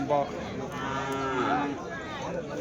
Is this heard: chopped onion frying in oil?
no